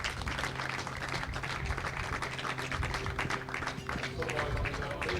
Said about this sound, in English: So there is Dan, getting the applause from the assembled teams here and the officials